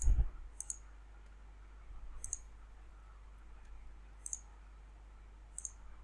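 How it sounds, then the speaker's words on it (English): Soft computer mouse clicks in a quiet room, a few isolated double-clicks spaced a couple of seconds apart over a low steady hum. "Click send."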